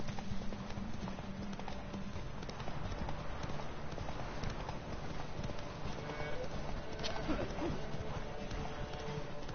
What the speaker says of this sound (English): this is the first horse race